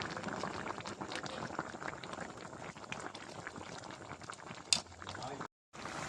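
Fish curry with snakehead fish and potatoes boiling after water is added, a continuous bubbling simmer close up, with a brief sharp clink and a short cut near the end.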